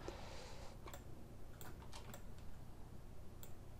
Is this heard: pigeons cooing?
no